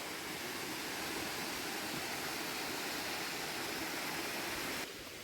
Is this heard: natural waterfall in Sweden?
yes